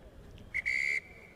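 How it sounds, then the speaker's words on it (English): At an Asia Rugby Division 3 match in India between Bangladesh and Nepal, a referee's whistle gives a short chirp, then a sharp, sustained blast over faint crowd background. "Referee, quick blast on the whistle."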